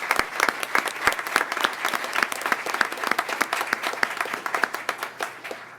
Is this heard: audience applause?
yes